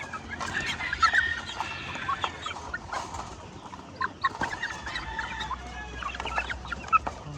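Flock of around fifty chickens eating feed, busy overlapping clucks and soft calls from many birds at moderate distance, with pecking and scratching noises beneath.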